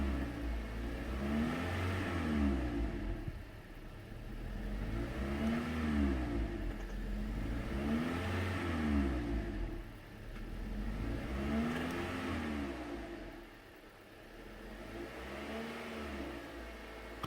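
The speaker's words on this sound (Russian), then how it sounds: "И там что-то звуки. Да это детонация." A car engine running with detonation knocking, its steady mid-pitched drone rising and falling in a slow repeating cycle of revs, close and alone without talk.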